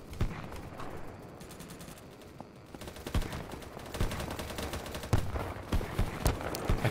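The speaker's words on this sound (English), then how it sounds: "Auto fire is too much fun." Automatic rifle fire in the video game BattleBit Remastered, several rapid bursts of sharp shots separated by short pauses, loud and close over a background of game ambience.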